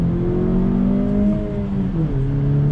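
A 2020 Honda Civic Si engine revs hard toward redline in second gear, a loud, steady, rising drone with its pitch climbing throughout and no one speaking.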